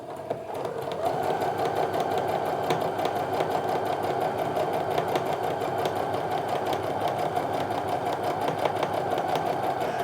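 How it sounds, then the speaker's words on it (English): A sewing machine stitches a scant quarter-inch quilting seam, a steady rapid mechanical whir running continuously and close for the whole stretch without talk. "I'm just gonna go ahead and sew that scant 1/4 inch seam"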